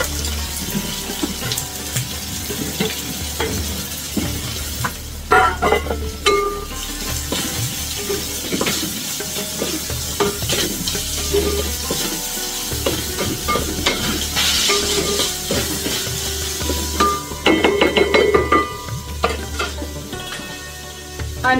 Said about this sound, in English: Now you can see ghee is hot in both the karais. So in this karai, I am putting this onion,